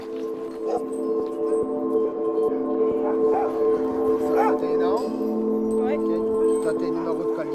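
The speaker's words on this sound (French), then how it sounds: "C'est l'excitation, c'est ouais, ça jappe, ça jappe, ça jappe, tu t'entends pas parler." Sled dogs bark, yip and howl in a dense, excited chorus at a forest tourist station, a steady wall of overlapping voices with tonal howls running throughout.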